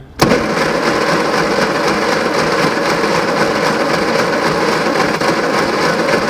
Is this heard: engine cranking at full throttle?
yes